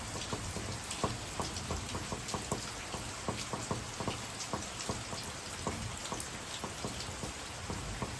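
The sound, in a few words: heavy rain falling in the evening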